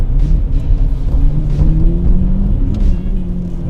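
A Lamborghini Murcielago engine rumbles loud and close at a steady deep idle, with slight swells in pitch and no voices over it.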